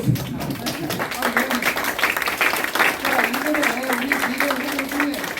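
A political party audience claps for youth candidates at a youth committee launch and appointment ceremony, with dense, steady crowd applause continuing under a voice.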